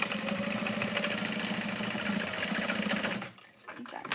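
A sewing machine back stitching a Freesia fold-over bag at a stitch length of 4 hums steadily and close up for about three seconds, then cuts off, followed by faint handling rustles.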